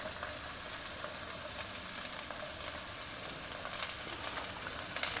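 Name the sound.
chopped snake gourd sizzling as it is added to the pan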